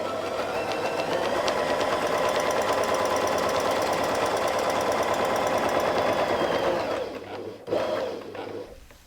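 A sewing machine stitches a quilt circle in a steady, rapid mechanical rattle of closely spaced needle strokes, running continuously before stopping briefly near the end with a short restart.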